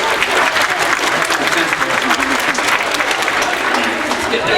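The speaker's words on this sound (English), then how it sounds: "round of applause" Steady, dense applause from a live audience at a science show, welcoming a volunteer, holding at an even, loud level throughout with a voice faintly present underneath.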